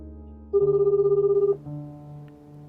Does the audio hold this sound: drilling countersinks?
no